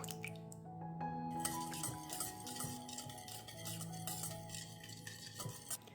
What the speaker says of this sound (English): Adding melted butter.